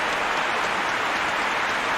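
Stadium crowd applause in PES 21 during a World Cup match between England and Iran, played on PS4: a dense, even wash of clapping that holds steady for a couple of seconds, with no commentary.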